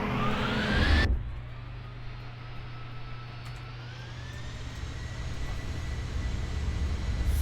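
Aircraft engine in a video game, a loud roar that cuts abruptly to a steady low droning hum with a faint rising whine, as when a plane taxis along the ground.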